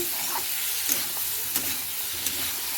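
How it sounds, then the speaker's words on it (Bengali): Pointed gourd (potol) frying in oil with turmeric, salt, cumin and nigella crackles in a steady close sizzle, broken by a few sharp spatters and stirring scrapes. "পটলটা ভালো করে ভেজে নেবো"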